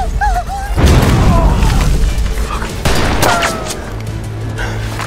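A heavy sniper rifle shot booms in a shooter video game, followed by a rumbling echo, then a second blast rolls in amid cinematic sound effects and a low background drone.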